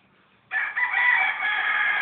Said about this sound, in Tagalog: Ang puta boses manok